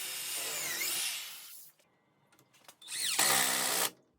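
A power drill drives a 2.5-inch screw into a wooden dowel on a DIY plate tree, with two loud whirring bursts, a longer one first and a shorter one after a quiet gap with a few small knocks, close up.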